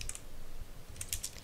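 Brisk typing on a new computer keyboard, a quick run of light clicking keystrokes close up and fairly quiet, with no talking over it.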